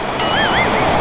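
Steady rain falls outdoors at a coin-operated wash bay where a big bike is being cleaned, a dense continuous hiss with a faint warbling tone above it and no speech.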